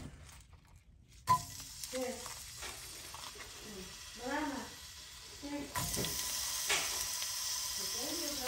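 Onions sautéing in hot oil in a home kitchen, a steady soft sizzle with occasional stirring scrapes, while someone talks intermittently over the cooking.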